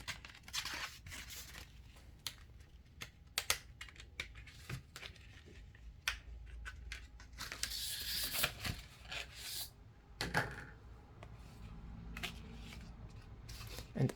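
Packaging for a glass MacBook keyboard cover is opened from the sides: close, quiet crinkling, rubbing and tearing with sharp plastic snaps and scrapes, irregular throughout.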